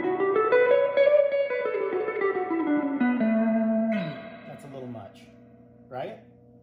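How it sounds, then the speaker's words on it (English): A voice speaks through a heavy, washed-out transformer-driven reverb that smears each word into a long, ringing tail; the echo lingers after the talking stops. "That's just way, way, way oversaturated in terms of that reverb."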